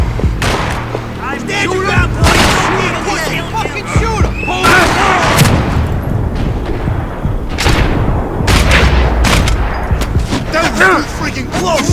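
Heavy gunfire rattles through a Max Payne 3 firefight, loud and relentless, with booming thuds and bursts layered under frantic shouting voices.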